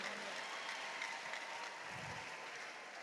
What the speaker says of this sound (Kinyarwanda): tuyongera amashyi